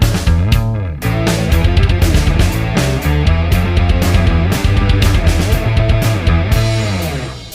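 A full rock band mix plays loud and dense: driving drums, layered distorted guitars and bass together, a continuous wall of sound with steady hits and no voices.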